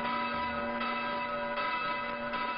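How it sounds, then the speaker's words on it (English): Church bells ringing on the island of Cyprus, a steady sustained metallic tone with faint strikes recurring about every second, heard at a distance against a constant background hum. "You hear bells all over this island."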